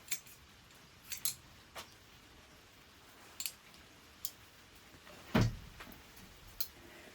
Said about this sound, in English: I'm going to cut off these finer roots.